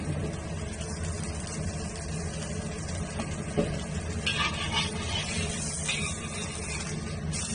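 Pork liver pan-fries in a wok with a steady close sizzle and hiss, punctuated by a few louder spatters and stirring scrapes.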